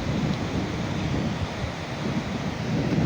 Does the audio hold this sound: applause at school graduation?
no